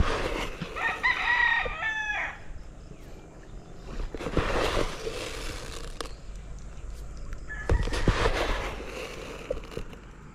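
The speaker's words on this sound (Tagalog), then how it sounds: "dinala na pala ni Lolo Boy yung kanyang mga manok dito ah" Free-range chickens in a rural Philippine yard: a rooster crows loudly and close near the start, followed by scattered clucks and a couple of sharp squawks from the flock over faint outdoor background noise.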